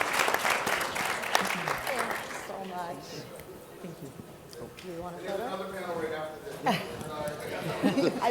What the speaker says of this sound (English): let's give a huge round of applause, ladies and gentlemen